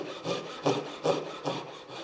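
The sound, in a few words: Japanese pull saw cutting pine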